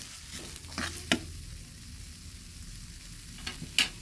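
Bottle gourd leaves fry in a pan with a continuous close sizzle, broken by a few sharp clinks and scrapes of a spatula stirring them, one near the start and one near the end; no one speaks.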